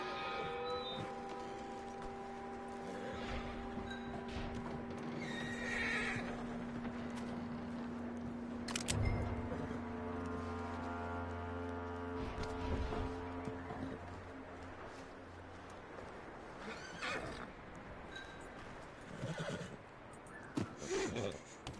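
Horses in the Red Dead Redemption 2 video game whinny and snort amid game ambience, with drawn-out neighs, shuffling and occasional thuds, moderately near and fairly quiet overall.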